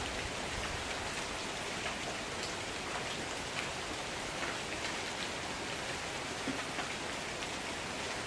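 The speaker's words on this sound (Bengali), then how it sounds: "আবার সারাটা দিন বৃষ্টি" Steady rain falls all through on a day of continuous downpour, a dense even hiss of drops striking surfaces with no voices heard.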